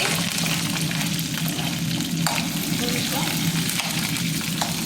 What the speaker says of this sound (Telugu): ఆవాలు ఎగుతున్నాయి